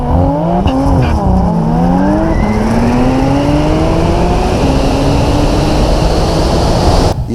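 A Porsche 911 T race car tuned by Mandalá Motorsport to 680 hp accelerates hard at speed, its engine pitch climbing through several gear changes, loud and close throughout.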